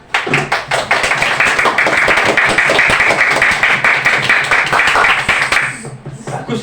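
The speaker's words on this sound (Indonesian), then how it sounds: "Oke, tepuk tangan." Classroom applause from a group of students during a teaching-practice lesson, loud and close, a dense, fast clatter of many hands that keeps going for several seconds and then drops off abruptly near the end.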